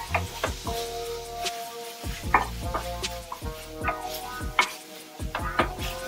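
Chili and salt being stirred into sautéed green beans in a pan, a near, steady mix of scraping and tapping strokes with a faint sizzle underneath and no talking.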